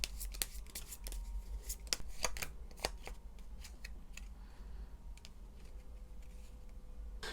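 Tarot cards are shuffled in a quiet indoor setting, producing soft, irregular riffling clicks and snaps that come close and fairly faint, with no voice over them.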